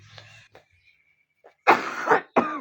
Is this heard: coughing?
yes